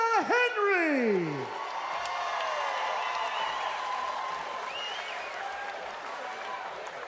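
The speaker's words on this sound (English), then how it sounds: "And a round of applause, please, for a very game Bella Henry." Crowd at a boxing undercard bout applauding Bella Henry, a steady wash of clapping and cheering from a large audience after a brief announcer's voice at the start.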